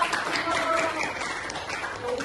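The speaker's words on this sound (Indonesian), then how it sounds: "Kita beri tepuk tangan juga." A classroom audience claps for a student after her summary during a game-based learning lesson, a steady dense patter of hands with some voices mixed in.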